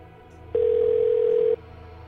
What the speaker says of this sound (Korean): 이번엔 통화 연결음이 제대로 들립니다